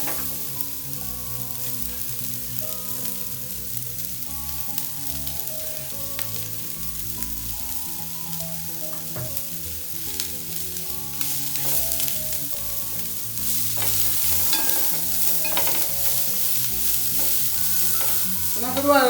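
Chopped onions frying in a pan for a pork fry, a continuous close sizzle with frequent stirring scrapes that grows busier and louder toward the end, with no one speaking.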